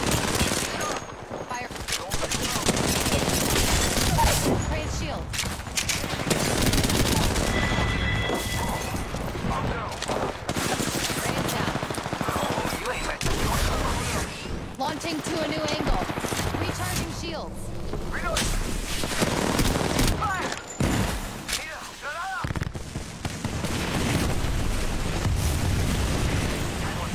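Video game gunfire, sustained bursts of automatic fire and booms running densely through nearly half a minute at high loudness, with voices calling out commands over the action.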